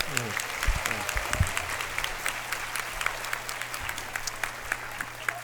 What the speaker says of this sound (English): Can we just give them another round of applause?